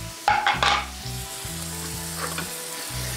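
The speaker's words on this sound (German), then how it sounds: "So, den Bacon, den braten wir jetzt ein bisschen an." Bacon sizzles and crackles in very hot, neutral-tasting oil in a pan, a steady close frying hiss with a few louder spatters near the start and no talking.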